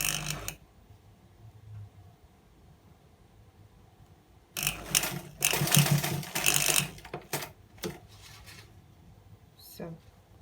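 A sewing machine runs a short stitch across the centre of a kids' striped top, a brief loud burst with fabric rustling and handling clatter, following a quieter stretch with a voice speaking.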